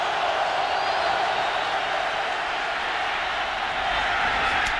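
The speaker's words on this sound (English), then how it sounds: "for the first time now, the crowd really starting to become a factor" A football stadium crowd at a 2005 Raiders at Eagles game roars in a broad, steady wash of cheering, loud and continuous throughout.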